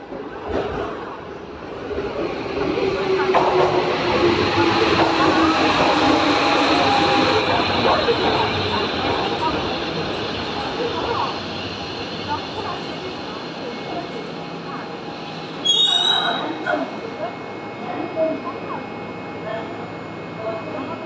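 A TH Liner train rolls through Minami-Senju station without stopping, a long steady rumble and rail hiss at moderate distance, with a brief squeal near the end and voices talking over it.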